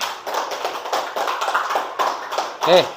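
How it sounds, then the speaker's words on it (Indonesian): An audience claps for a presenting group at the close of a talk. The applause is moderately loud and steady, with a voice briefly speaking over it near the end. "Tepuk tangan dulu sekali lagi untuk kelompok 4"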